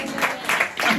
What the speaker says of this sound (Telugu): చప్పట్లు కొట్టి స్తోత్రం